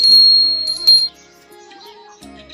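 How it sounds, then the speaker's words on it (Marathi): A small hand bell rung during an Akshaya Tritiya worship ritual gives bright, shimmering tones for about a second, then fades to a soft ringing hum. "आणि घंटी वाजवायची"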